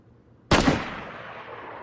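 A single sharp gunshot rings out in the DayZ video game, a loud sudden crack followed by a long fading echoing tail, with no talking.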